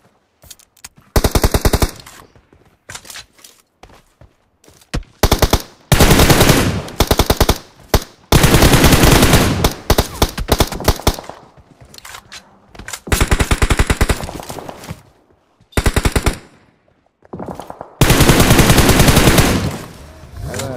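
Video game gunfire comes in repeated bursts of rapid automatic shots, loud and close, separated by brief silences across the whole stretch, with no talking over it.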